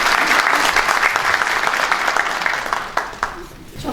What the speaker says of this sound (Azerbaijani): alqışlayırıq, təbrik edirik